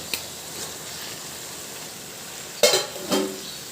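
Omelette pieces and chopped ridge gourd stirred in a hot pan, with a quiet background sizzle and two distinct scraping stir strokes near the end.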